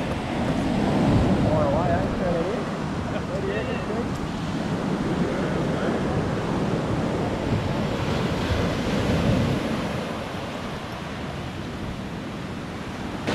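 Turbulent surf churns and breaks at a fringing reef point off a Vanuatu island, heard from a boat. The roar is constant and broadband, with heavy wind buffeting the microphone throughout.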